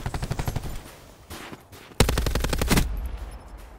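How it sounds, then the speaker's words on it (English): Minigun fire in Call of Duty: Black Ops 4, loud rapid-fire bursts with a dense rattling rhythm, a first burst, a brief lull, then a heavier, louder sustained burst close up. "The minigun. I've got a minigun."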